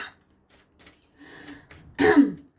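A single harsh cough bursts out near the end, preceded by a few soft breaths and quiet throat sounds.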